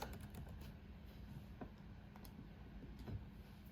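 Quiet computer keyboard typing, a few scattered light keystrokes over a low steady room hum with no voices.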